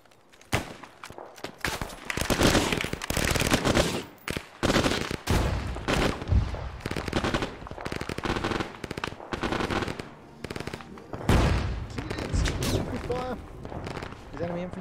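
Arma 3 gunfire aimed at enemy infantry, with sharp rifle shots and rapid bursts cracking close and loud in irregular clusters, interleaved with players talking over radio.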